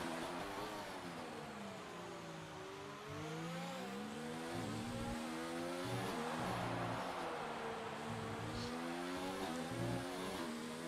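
Race car engines in a PC racing video game at Mexico, several cars revving and shifting through gears with pitch climbing and dropping as they weave through a sequence of S-bends, a dense and continuous roar.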